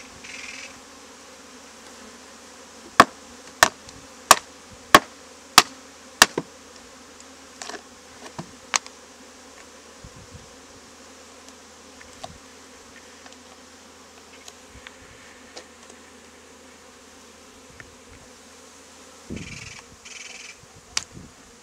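Honey bees buzzing at close range while a hive is removed from a Squire master planter, a steady insect hum carrying on throughout with a run of sharp knocks and clicks early on and scattered handling noises.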